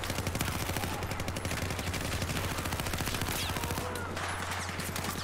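Rapid automatic gunfire from Battlefield 4 rattles almost without a break, loud and close, in dense bursts that carry through the whole stretch.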